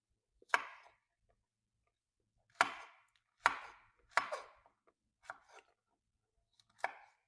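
A knife chops bottle gourd (lauki) on a board in six separate crisp strokes, spaced irregularly, close and clear with quiet between.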